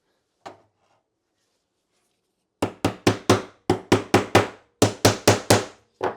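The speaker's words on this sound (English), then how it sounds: "So I'm going to start by nailing down this form here." Hammer blows drive nails into a wooden form for a beginner stained glass project: one lone tap, then a steady run of about thirteen sharp, close strikes in quick groups of three or four, with no talk.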